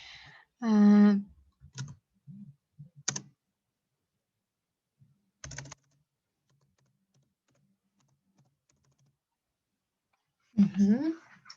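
Mouse clicks on the send button while building a lesson on an online school platform: a few sharp, isolated clicks spaced over several seconds in a quiet room, with a voice speaking at the start and end.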